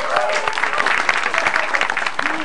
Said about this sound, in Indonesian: Tepuk tangan buat Pak Komar.